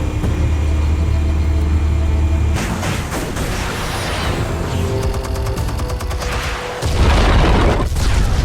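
Heavy detonations from explosives going off in the Batman Telltale Series game: loud, low booming rumble with sharp bursts and crackling debris, dense and continuous throughout, swelling again near the end.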